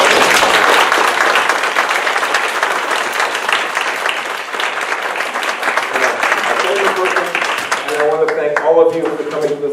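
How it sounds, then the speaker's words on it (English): A class audience at a beginning beekeeping course gives a loud, dense round of applause that holds steady for several seconds, then thins out as a voice begins talking at the end. "Round of applause."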